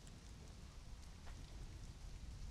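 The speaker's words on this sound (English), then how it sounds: "It does sound like it's a very rainy day." Steady rain in a video game, a constant dense hiss with faint low rumble underneath, soft and continuous with no talk.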